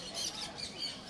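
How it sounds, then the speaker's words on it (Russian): Quaker parrots at an Australian bird sale squawking in short harsh bursts, a brief, fairly faint burst of calls with no talking. "Это квакеры."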